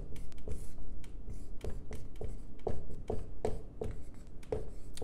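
Chalk or marker writing calculus integrals on a classroom board, a steady run of close tapping strokes and scratchy rubbing for several seconds, with no talking over it.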